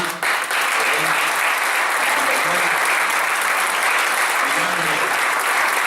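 Strong, sustained applause from a large audience at a political congress, a dense even wash of clapping that fills the whole stretch, loud and close.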